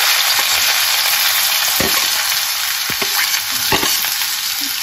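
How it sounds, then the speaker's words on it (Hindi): Two finely chopped onions hiss and crackle loudly in hot oil in a kadhai, a dense, continuous sizzle with a few sharp stirring knocks and no speech. "अब मैं इसमें ऐड कर रही हूँ 2 बारीक कटे हुए प्याज"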